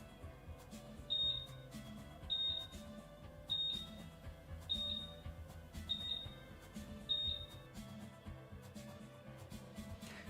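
A freezer's door-open alarm beeps in a regular series of six short high-pitched tones about a second apart, fairly faint over a quiet background hum.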